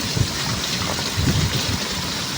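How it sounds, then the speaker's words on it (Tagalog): Steady rain falling outdoors during the rainy season, a constant even hiss of drops with no breaks. "Mag-ingat po palagi mga karaway dahil umuulan na naman."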